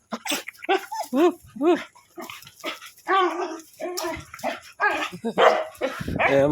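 Pet dogs bark and yelp excitedly in a greeting, short pitched barks following one another closely and loudly, mixed with whining.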